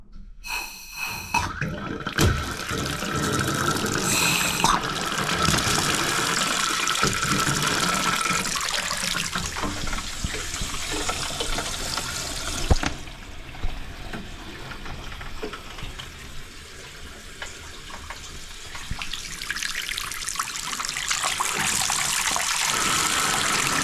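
Water rushing steadily through household taps and pipes once the stop tap is reopened, a close, broadband hiss with spluttering bursts near the start and a sharp knock partway through.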